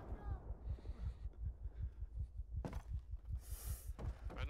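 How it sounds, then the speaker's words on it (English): A heartbeat effect from the Arma 3 video game thumps in a steady, regular rhythm, low and close, with brief bursts of other game sounds. "Oh, I can hear my heartbeat."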